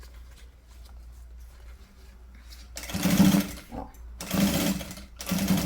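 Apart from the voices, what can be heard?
sewing machine stitching a seam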